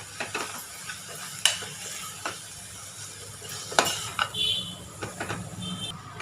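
Tomatoes and green chillies sauté in a pan with a low, steady sizzle under intermittent stirring clinks and utensil taps against the metal, heard up close without talk.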